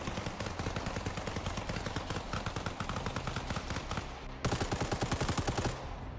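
Rapid automatic gunfire in Arma Reforger, a long unbroken string of sharp shots in fast even rhythm, loud and close, growing harsher in the final seconds before stopping.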